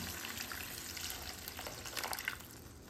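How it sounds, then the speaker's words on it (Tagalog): Water poured into a cooking pan while making fish adobo, a steady close splashing and trickling that runs the whole time with no voices over it. "Lalagyan natin siya ng tubig."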